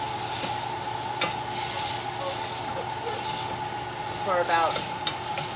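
Onions sautéing in a pan for a Burmese mohinga, a steady close sizzle and hiss with occasional stirring scrapes, as a voice speaks briefly over the frying.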